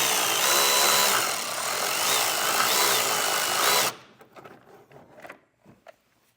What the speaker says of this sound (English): So get a socket up there and get that loosened up.